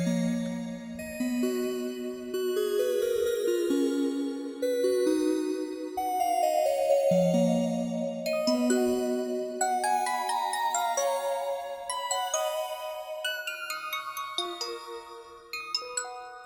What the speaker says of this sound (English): I'll bring in another instance of flex and then go back to that music box.